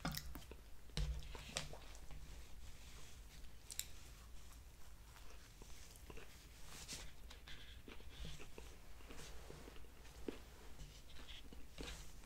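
Someone chews a Chick-fil-A spicy chicken sandwich close to the mic, soft wet crunches and squishy bites repeating through a quiet background, with occasional sharper clicks and no clear talking.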